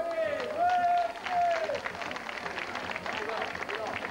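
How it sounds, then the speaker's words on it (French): Crowd applause at a boxing event, steady clapping that follows a loud amplified voice with a whistle-like tone at the start and carries on under it. "On peut l'applaudir."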